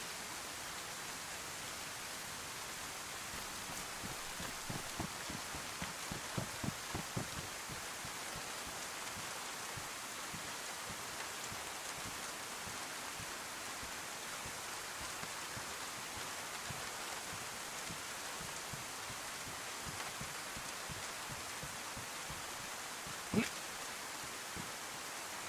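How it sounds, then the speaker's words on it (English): Steady rain pours in the game DayZ, a dense even hiss of drops sustained throughout, with faint scattered patters and a single brief knock near the end. "Quite timely this rain"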